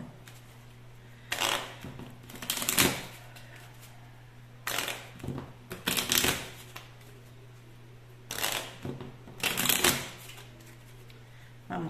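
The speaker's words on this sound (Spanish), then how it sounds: "Voy a barajar." Tarot cards are shuffled in several quick riffling bursts separated by pauses, close and crisp over a steady low hum, with no talking.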